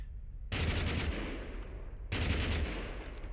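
Two loud, dense bursts of automatic gunfire from a BAR rifle in the video game TABG, each a rapid stream of shots lasting over a second, close and harsh with no voices over them.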